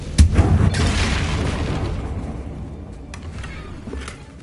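A Confringo blasting spell goes off in a wizard video game: a deep boom with a sharp crackling burst, then a rumbling tail that slowly fades over several seconds.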